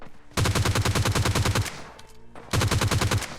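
Rapid automatic gunfire in PUBG Lite, a loud fast burst of repeated shots for over a second, a brief lull with lower noise, then a second equally rapid burst close by.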